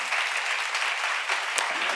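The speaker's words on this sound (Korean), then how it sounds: "믿는 사람만 박수 한번 치세요." A church seminar audience claps together in a sustained burst of applause, dense and even, with no speech over it.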